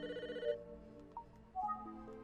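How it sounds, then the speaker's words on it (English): A telephone rings in the Famicom Detective Club: The Missing Heir video game, a synthesized electronic ring that stops after half a second, followed by a few soft chime-like game tones. "Oh, phone call. Phone's ringing."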